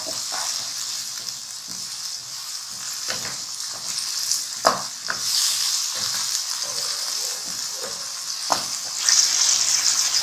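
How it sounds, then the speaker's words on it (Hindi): Green peas frying in a spiced masala for peas-and-onion keema, a steady close sizzle with a bright hiss and repeated soft scrapes of stirring throughout. "इसको 1-2 मिनट हमने मटर को अच्छी तरह भूनना है मसाले में"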